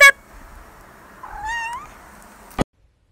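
A tuxedo cat gives a single clear, rising meow near the middle, close and moderately loud, followed by a brief sharp click; otherwise quiet.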